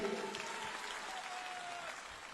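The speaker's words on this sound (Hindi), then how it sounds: "आप इनके लिए एक बार जोर से ताली बजाइए" Applause from a political rally crowd in Patna, broad steady clapping that fills the whole stretch at moderate distance, with a faint tonal whistle or voice line drifting through and no clear speech.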